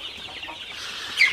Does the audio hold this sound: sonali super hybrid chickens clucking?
yes